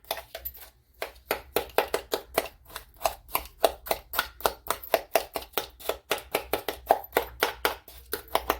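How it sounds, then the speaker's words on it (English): Sugar, nutmeg and cinnamon are stirred together in a bowl for southern-style candied yams. A utensil makes fast, even, rhythmic tapping and scraping strokes, about three per second, close up and with no talking. "I'm gonna mix them all together"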